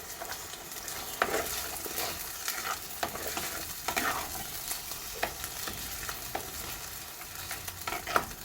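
A fish curry base frying in oil in a pan gives a low, continuous sizzle broken by repeated stirring scrapes and clatter from a spoon against the pan, close by and with no speech.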